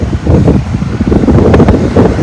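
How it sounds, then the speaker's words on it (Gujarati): Steady wind buffeting the microphone on an open sports ground, a broad rumbling roar with some rattling and gusts throughout, no voices. "પવન છે એટલે અવાજ તો ખડખડ થતું હોય બધું"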